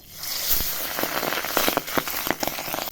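Pieces of aar fish are slipped one by one into hot oil, setting off a dense, crackling sizzle with sharp pops, steady and fairly close, with no talking.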